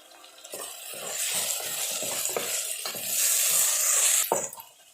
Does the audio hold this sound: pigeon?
no